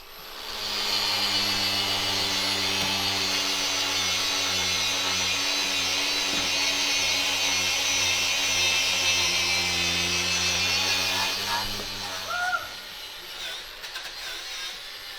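A wire wheel on a power tool whirs at a steady, loud, high-pitched drone for about eleven seconds before spinning down, then a few faint scrapes follow.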